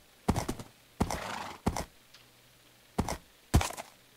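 A horse in the video game Life in the Woods Renaissance: five separate bursts of thudding hoof clops with a short neigh-like snort, spaced by quiet gaps, close and clear with no talk.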